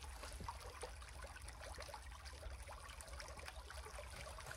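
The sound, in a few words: flowing water of a stream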